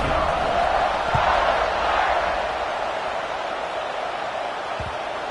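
Stadium crowd in a college football video game roaring at kickoff, a broad, steady wash of cheering that swells early and then slowly fades.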